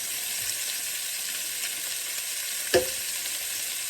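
Beef browning in a pan over high heat gives off a steady, close sizzle and hiss, with one brief sharp knock or scrape near the end and no talk.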